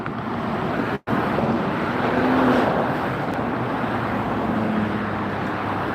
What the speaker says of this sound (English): ANA, the inspiration of Japan, taxiing before you now.